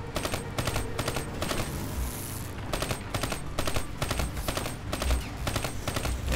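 Rapid automatic gunfire in Call of Duty: Black Ops III, loud bursts of rattling shots in repeated rhythmic volleys with a brief lull near the middle, dense and continuous with no talk.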